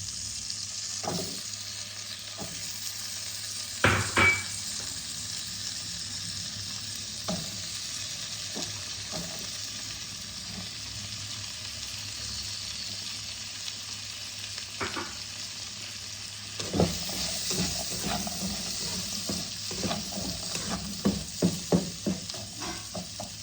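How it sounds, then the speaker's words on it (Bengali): Potatoes and carrots fry in a pan over mustard-seed tempering for a poha pulao, a quiet, even sizzle with a spatula knock early on and a burst of clattering stirring near the end, no voices. "এবার আলু আর গাজরগুলোকে ভালো করে ভেজে নেব।"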